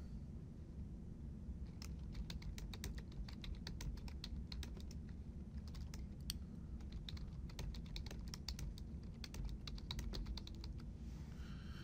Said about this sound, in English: I'm gonna go ahead and just type my text.